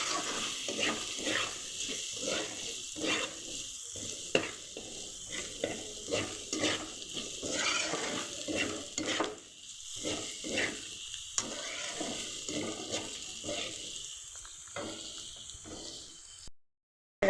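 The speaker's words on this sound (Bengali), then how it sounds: "পেঁয়াজগুলো দিয়ে কিন্তু ভালো করে ভাজা ভাজা করে নেব" Chopped onions sizzle in a hot pan for masala pasta while a spatula scrapes and stirs them in a steady repeating rhythm, close and continuous, then the sound cuts off near the end.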